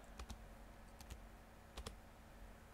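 Quiet computer keyboard typing, a few scattered clicks in small clusters over a low steady hum, faint and close.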